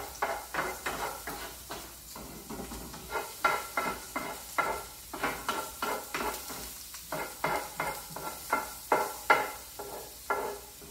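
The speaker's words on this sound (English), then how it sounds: "And ginger looks so good when it's cooking in oil like that." Ginger frying in hot oil for a veggie pad thai, with a rhythmic series of stirring scrapes and sizzles, utensil repeatedly working the pan close up, no voices.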